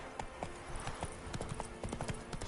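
Hooves of Roach, Geralt's horse in the video game The Witcher 3, clip-clopping in a steady rhythmic walk, close and clear, with faint ambient game sounds behind.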